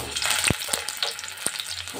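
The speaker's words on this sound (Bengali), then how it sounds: "আলুগুলো একটু লাল লাল করে ভেজে নেব।" Potatoes fry in hot oil in a wok, giving a close, steady sizzle. Two or three quick knocks of a stirring utensil break through, and there is no talking.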